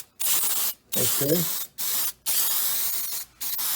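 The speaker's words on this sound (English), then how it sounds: "Now I'm going to spray this way. For good coverage." Aerosol spray adhesive is sprayed onto surfaces for a C3 Corvette side console panel install. Four loud, close bursts of hissing spray are separated by brief pauses, and a voice speaks briefly during one burst.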